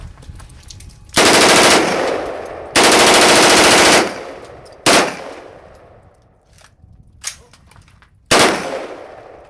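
An SSAR-15 rifle fitted with a Slidefire bump-fire stock firing rapid bursts outdoors, two long loud strings of shots followed by short bursts and a single shot, each ringing out with echo between bursts.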